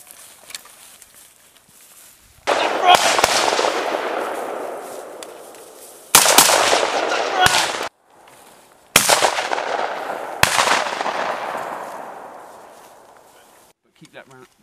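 Bursts of firing during a military team training exercise, several loud sustained volleys at a steady rate with short gaps between them, each trailing off, with faint movement in the pauses.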